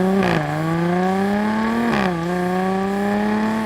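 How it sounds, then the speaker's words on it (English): A 2015 Jaguar XF's supercharged V6 engine revs hard twice, pitch climbing steadily between shifts, with a high supercharger whine running over the loud, continuous drone. "lets you hear its supercharger whining away when you open it up"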